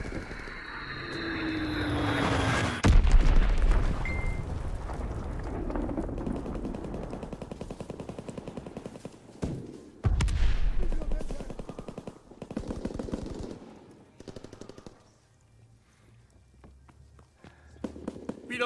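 Air raid of Fritz X guided bombs in the World War II shooter Call of Duty: WWII, with heavy booming blasts near the start and again midway, amid rattling gunfire and a droning aircraft backdrop.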